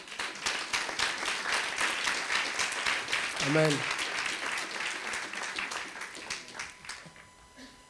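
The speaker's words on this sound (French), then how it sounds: "On l'applaudit très fort." Loud, sustained applause from a church congregation during a pastor's sermon, with a voice briefly saying a word partway through; the clapping stays dense and strong, then gradually thins toward the end.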